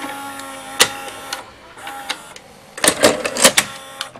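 A Pioneer DV-626D DVD player ejecting its disc tray, a series of close mechanical clicks and whirring motor pulls, ending in a burst of clattering tray movement, with no talking.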